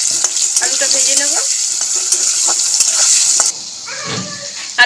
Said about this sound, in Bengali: আলুটাও লাল লাল করে ভেজে নেবো।